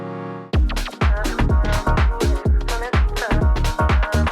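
Serum house pad with envelope 1 driving a low-pass filter cutoff, sounding as a loud, rhythmic run of about eight swelling chord hits with deep bass, each opening brighter then closing, pumping steadily with no voices.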